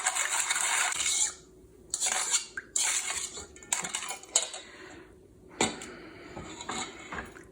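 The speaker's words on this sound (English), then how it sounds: "I just stirred that until I didn't hear much of the sugar grating against the bowl" A metal spoon stirs sugar into an apple marinade in a bowl, scraping and clinking against the sides in bursts of gritty grating with short pauses, close and fairly loud, no talking.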